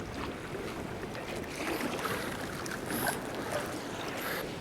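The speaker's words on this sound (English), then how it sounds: "the wind's kind of coming from the mainland, kind of like northern too, so it's coming across there." Wind blowing across open water during a kayak fishing trip in rough conditions, a steady blustery roar with mic buffeting and faint water sloshing, no voices.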